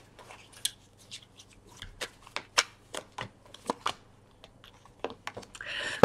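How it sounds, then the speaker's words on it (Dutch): Tarot cards shuffle in crisp, irregular riffles and snaps, close and fairly quiet, ending in a brief rustle. "Dan de kaarten schudden om te kijken wat deze week voor jou gaat brengen."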